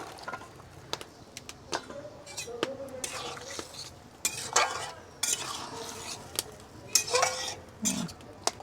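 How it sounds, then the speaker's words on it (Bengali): Eggplant and beans go into a cooking pot and are stirred, with scraping, clinks and knocks of a utensil against metal and a faint sizzle underneath. Someone talks over the cooking sounds. "এখন আমি বাকি সবজিগুলো দিয়ে দেব বেগুন আর লুবিয়াটার মধ্যে দিয়ে দিচ্ছি"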